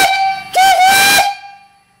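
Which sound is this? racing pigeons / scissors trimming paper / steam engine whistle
steam engine whistle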